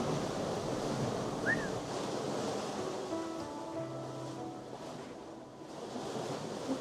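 Rough open sea churning under a 28-knot wind, with 9-10 foot swells surging in a continuous, heavy wash of surf and gusting wind noise, loud and close with no voices.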